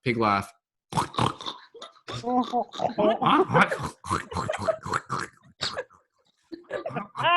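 A group of people at a laughter meditation session at a festival event voice pig-like laughs, snorting, grunting oinks in bursts with short pauses between, fairly close and loud, with voices imitating the animal throughout.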